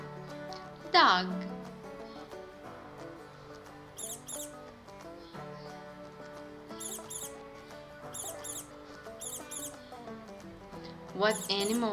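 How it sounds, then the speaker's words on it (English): Tiny high-pitched mouse squeaks come in brief chirping bursts, several scattered through the clip over a soft sustained musical background. "Mouse. Mouse."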